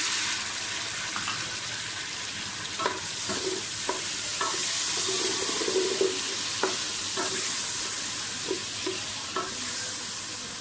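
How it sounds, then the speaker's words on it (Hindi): Tomatoes sizzling with yogurt in a pot for a chana dal pulao, a steady close hiss of frying broken by scattered scrapes and clinks of a spoon stirring, with no voices. "टमाटरों को भूनिए अच्छी तरह से दही के साथ"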